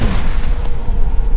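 A rifle gunshot in the Resident Evil 4 Remake game booms loudly, a heavy low blast with a rumbling tail that fills the brief moment with no voice over it.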